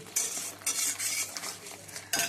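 Spiced masala for an egg kosha curry being stirred in a pan, a spoon scraping and clinking against the metal in short repeated strokes over a soft background sizzle, close and fairly loud, with no voices.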